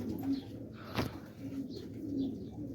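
Pigeons on a pigeon farm in Quetta cooing at feeding time, with soft low coos repeating every second or so, a few faint chirps and a brief sharp knock nearby, all under a steady background hum.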